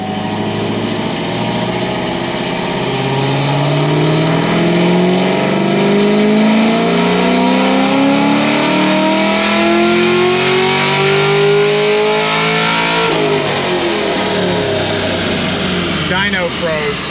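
A car engine with a new cam and heads revs up on a dyno, climbing in a long, loud, rising whine that holds near the top and then eases off.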